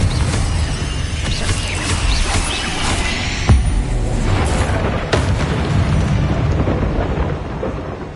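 Confringo blasting-spell explosions in Hogwarts Legacy: heavy, loud booms with sharp crackling bursts, two standing out, over continuous rumbling combat noise with no talk.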